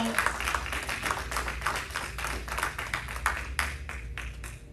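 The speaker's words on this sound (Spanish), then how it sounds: "Si ese aplauso es para Cristo y para recibir la palabra de Dios, que se escuche ese aplauso" A church congregation applauding, a few seconds of uneven, moderately loud clapping from a gathered crowd with a faint voice underneath.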